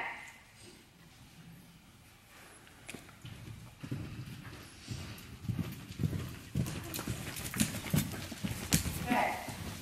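Hooves thud in a rhythmic canter, growing louder as the horse approaches, with a person talking over the hoofbeats.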